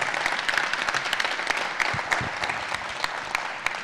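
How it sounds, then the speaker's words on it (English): Sustained audience applause, a dense patter of many hands clapping at steady volume throughout. "So one last round of applause for Ellie."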